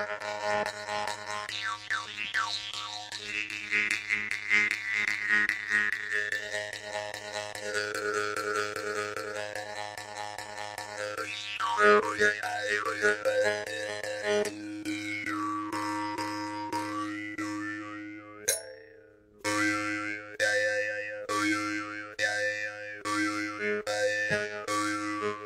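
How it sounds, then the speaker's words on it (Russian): A jaw harp (vargan) plays a low bass drone for about 25 seconds, its twangy overtones sweeping and shifting continuously, with a short break near the end before the rhythmic plucking resumes. "Как сделать бас на варгане?"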